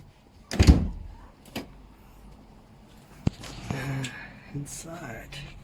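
A VW Beetle door, on a car under repair for heater channel and A-pillar replacement, shuts with a loud thunk near the start, followed by a sharp click and fainter clunks and rattles.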